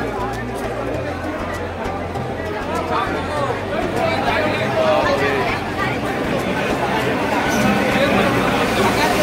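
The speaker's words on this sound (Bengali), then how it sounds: "সেই লেভেলের ভিড়, কি সেই লেভেলের ভিড় ছেলেগুলো।" Crowded train station platform full of young exam candidates as a train pulls in, with dense, continuous chatter and babble from many voices close by, steady throughout.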